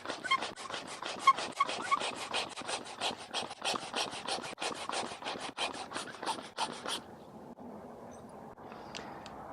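A wire brush scrubs dust out of a drilled rock bolt hole with fast, rhythmic rasping strokes, close and loud for several seconds before the strokes stop and only a quieter scrape remains.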